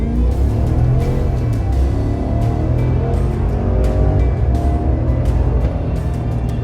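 A 2022 GMC AT4X 4x4 pickup accelerating hard, its engine roaring loud and close in a steady, sustained pull with rising tone and no talk over it.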